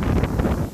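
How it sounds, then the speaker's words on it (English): Strong gusts of wind blow across an exposed Victorian mountainside and buffet the microphone, giving a loud, steady low rumble with swelling gusts throughout and no voices. "this is going to be a very bad video because it's just going to be so windy"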